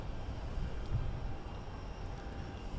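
Airliner taking off on runway 22 right at Logan Airport, a steady, distant low engine rumble heard from outside the airport with no talking.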